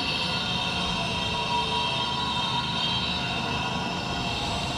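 Steady rumble and hiss of a Doha metro train in motion, heard from inside the carriage as it rides between stops in Qatar, continuous and fairly loud with no voices.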